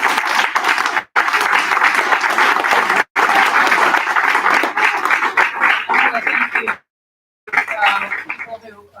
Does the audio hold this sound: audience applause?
yes